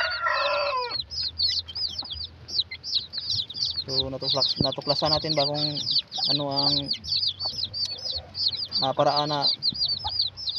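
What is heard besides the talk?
chickens and chicks clucking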